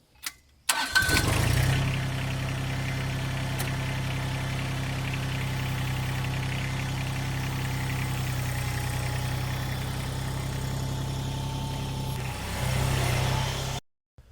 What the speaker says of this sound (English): now it's time to pull the tractor away from the loader